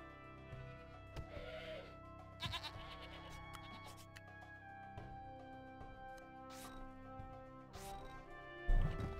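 Goats bleat faintly in the city-building video game CivCity Rome, with a few short wavering calls over a steady background of game music.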